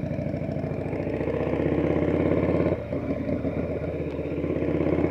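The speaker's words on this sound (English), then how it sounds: "And there's Henry's bike." A motorcycle engine runs close by at a steady idle with a low throbbing rumble, dips briefly near the middle, then carries on at an even level, with no voices.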